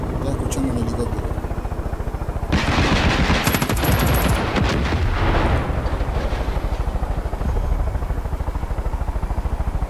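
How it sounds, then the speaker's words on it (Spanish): Helicopter rotor thudding steadily throughout a Far Cry 5 game scene, mixed with loud bursts of machine-gun and other gunfire in the middle, with talk over it. "Estoy escuchando un helicóptero"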